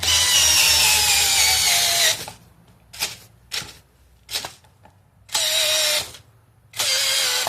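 A hammer drill, Hypertough or Bauer, driving a big lag bolt into wood: a long loud whirring run, then several short bursts, then two more sustained runs, close up and without voices.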